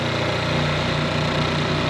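A Champion 4500-watt inverter generator with a 224 cc engine runs steadily nearby, a loud, even, lawnmower-like drone with a constant hum and no change in pace.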